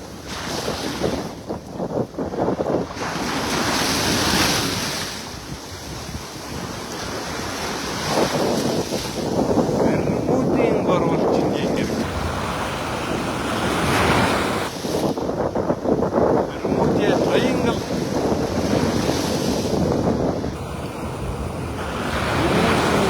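Gusty wind blowing outdoors, a loud, continuous roar that swells and eases in waves and buffets the microphone throughout, with no voices.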